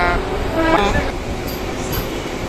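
Steady rumble and rattle inside a moving passenger train, with an announcement-like voice heard over the carriage noise.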